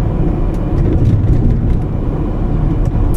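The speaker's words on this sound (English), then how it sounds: "At least it has a nice ride over these rough railroad tracks." A 2015 Nissan Sentra or 2015 Toyota Corolla driving over rough railroad tracks, heard from inside the cabin as a steady low road rumble with faint bumps, with no talking.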